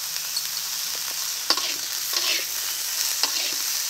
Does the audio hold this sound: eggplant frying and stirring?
yes